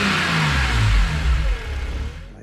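An engine with a redesigned CSL airbox starts up and revs hard, loud and close, then settles lower and fades within a couple of seconds.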